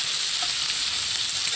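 Onions and garlic frying in fat, a steady close hiss and crackle of sizzling with no voices.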